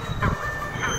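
A train rolls through Ratnagiri railway station, steady rumble of wagons with brief squeals from the wheels and a faint high whine on top.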